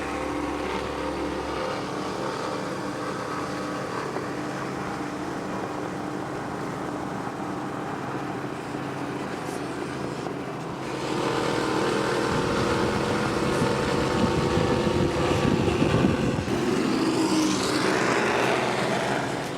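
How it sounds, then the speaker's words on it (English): A 36-foot powerboat powered by Mercury Racing 540 engines roars steadily throughout, its loud engine drone swelling louder partway through as the boat passes or speeds up, with rushing water and wind noise mixed in. "now they're enjoying this 36-foot sensation powered by Mercury Racing 540s"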